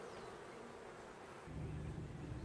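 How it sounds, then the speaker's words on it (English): Steady, close buzzing hum of many honeybees fanning their wings at a swarm, growing slightly louder and deeper partway through, with no talking. "See how they're fanning their wings?"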